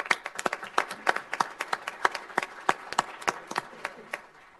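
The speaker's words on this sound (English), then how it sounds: "So let's give them a round of applause for that work." Applause at a city council meeting for a baseball team: a small group clapping unevenly for several seconds, moderately close, with no voices over it.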